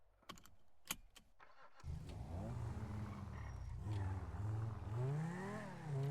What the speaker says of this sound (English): hotwire your car because you just took your keys